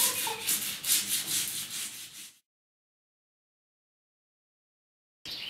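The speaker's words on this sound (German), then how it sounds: "ich werde die Oberfläche vom Huf ein bisschen aufrauen, damit der Kleber dann einfach besser am Huf dran hält" A horse hoof surface is roughened by hand with an abrasive tool to prepare it for glue, giving a close, steady scraping rub for about two seconds, then silence, then a brief resumption.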